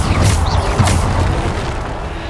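A booming Bombarda spell explosion from the video game Hogwarts Legacy, a loud, close burst with a heavy low rumble that fades over about two seconds.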